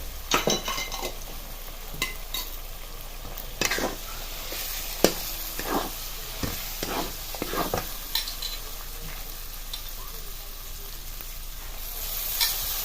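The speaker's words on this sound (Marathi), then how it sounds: "हे वाटण शेवटला घातलं तरी चालेल पण आत्ता घालून परतून घ्यायचे तेलामध्ये" Ground peanut paste sizzles as it is sautéed in hot oil in a pan, with a steady frying hiss. A spoon scrapes and clinks against the pan in irregular strokes, and no one speaks.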